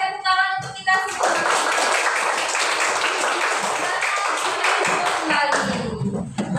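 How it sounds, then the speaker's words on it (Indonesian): Sustained applause from a classroom crowd in Indonesia after a song, dense clapping that starts after a brief moment of voices and continues steadily, with children's voices faintly mixed in. "Oke, tepuk tangan untuk kita semua."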